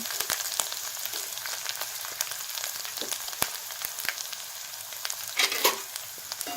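A ground spice mix for Kolhapuri misal hits hot oil with tempered cumin in a pan and sizzles loudly and steadily, with scattered crackles and stirring scrapes and no talking.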